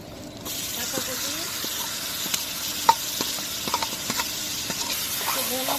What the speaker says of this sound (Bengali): কাঁচা কপি ভেজে নিলাম